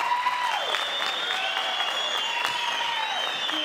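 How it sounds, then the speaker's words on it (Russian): An MMA event crowd applauds both fighters before the decision is announced, steady clapping with whistles and cries riding over it throughout. "попрошу аплодисменты обоим бойцам"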